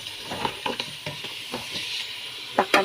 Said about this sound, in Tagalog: Tapos, tsaka haluin.